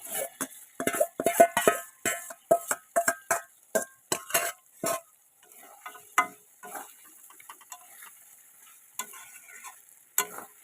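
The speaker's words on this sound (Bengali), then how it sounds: "যে চিকেনটা আমরা ভেজে রেখেছিলাম সেটা এবার এর সাথে অ্যাড করে দেবো" Fried chicken is stirred into an oily masala in a pan, giving a quick run of sharp spatula scrapes and clacks that thin out to sparse taps over a faint sizzle.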